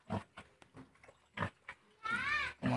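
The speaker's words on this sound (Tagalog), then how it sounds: "Kumakain yung baboy natin." A pig in its pen oinks and grunts in short, separate bursts, followed by a longer squealing call near the end, close and fairly quiet.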